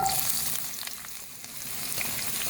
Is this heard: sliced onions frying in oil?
yes